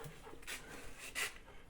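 A dog pants close by beside a house where wells have been dug underneath, giving soft, breathy puffs in a loose rhythm over a faint background hiss.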